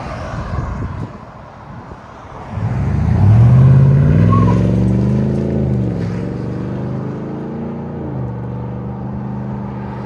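A 2023 GMC Yukon Denali with a 6.2L V8 and Flowmaster Flow FX cat-back exhaust revs up into a loud, deep exhaust note, then settles back to a steady, smooth rumble. No one speaks.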